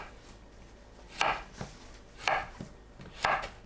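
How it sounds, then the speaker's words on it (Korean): A knife cuts through zucchini on a cutting board in three distinct, crisp thunks roughly a second apart, each followed by a softer tap. It is close and clear over a quiet kitchen background. "길게 반으로 썰어주세요. 큼직하게 썰어줍니다."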